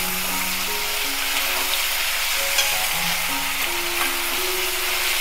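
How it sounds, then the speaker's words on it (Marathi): Three large sliced tomatoes sautéing in a pan for paneer pasanda: a continuous close, loud sizzle and frying hiss with no voices. "इथं मी 3 मोठे टोमॅटो उभे चिरून घेतलेले आहेत। आता हे आपण परतून घेऊयात।"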